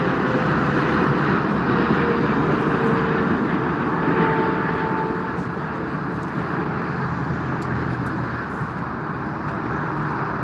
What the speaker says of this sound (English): So meanwhile, China air cargo has arrived,